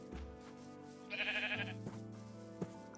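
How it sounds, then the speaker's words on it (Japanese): Minecraft sheep give a short, clear game bleat in a quiet moment, heard by itself over a soft background hum. "なんで羊がいんの？"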